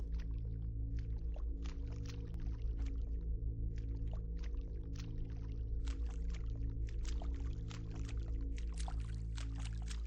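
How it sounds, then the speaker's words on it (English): Splashing footsteps wading through water in the video game BLACKSHARD, a steady series of wet bursts over a constant low drone, close and continuous with no talk. "Why does it sound like I'm walking through water?"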